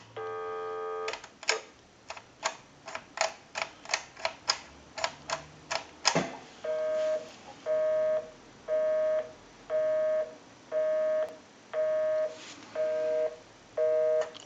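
A Western Electric 2554 telephone handset carries a series of rapid dial clicks, then a repeating pulsed tone in evenly spaced bursts, clear and close.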